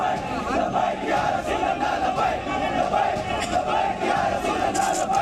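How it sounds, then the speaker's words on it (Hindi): A large protest crowd in Hyderabad chants slogans, a dense continuous roar of many voices shouting together without pause. "प्रदर्शनकारी बड़ी संख्या में नारेबाजी कर रहे हैं"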